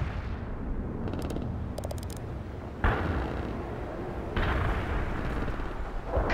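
Incoming artillery fire in the World in Conflict Soviet Assault campaign lands as heavy booming blasts over a constant battlefield rumble, with sharp impacts near three and four and a half seconds and no voices.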